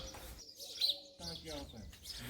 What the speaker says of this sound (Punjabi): ਪੰਛੀਆਂ ਦੀਆਂ ਆਵਾਜ਼ਾਂ ਸੁਣਾਈ ਦੇ ਰਹੀਆਂ